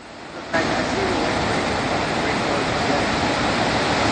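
Ocean surf at Weligama beach on the southern Sri Lankan coast gives a loud, continuous broadband roar of breaking waves, steady throughout with no voices.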